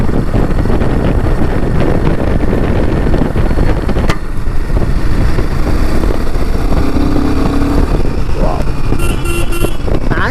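Royal Enfield Himalayan 450 motorcycle engine running steadily while riding in 4th gear, a loud continuous roar mixed with heavy wind buffeting throughout, with no break in the noise.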